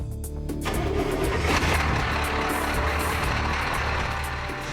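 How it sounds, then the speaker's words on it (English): A truck engine fires up after a short starter crank, then settles into a loud, steady idle rumble close by. "let's fire the truck up and see what this puppy will do"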